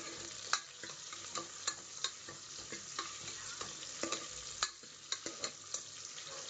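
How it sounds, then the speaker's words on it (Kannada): Chopped onion frying in oil in a pan, a soft continuous sizzle with frequent crisp ticks and spatula taps at an uneven pace, heard quietly and up close with no talking. "ಇನ್ನೂ ಸ್ವಲ್ಪ ಚೆನ್ನಾಗಿ ಫ್ರೈ ಮಾಡೋಣ."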